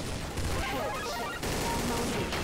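Rapid gunfire bursts rattle in a Counter-Strike: Source match, the shots crackling densely throughout with a brief dip in the middle, loud and close.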